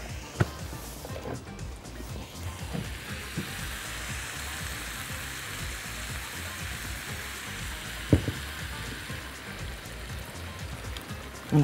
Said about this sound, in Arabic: وبزود عليها الماء المغليه دلوقتي لحد ما اغطي خالص كل الخضار واللحمه بتاعتي